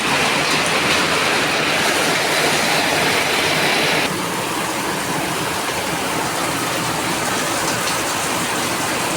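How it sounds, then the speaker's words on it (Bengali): Heavy rain pours down during a storm, making a loud, dense, continuous roar that is close and unbroken, with a slight drop in intensity partway through and no voices. "কত জোর বৃষ্টি হচ্ছে দেখো।"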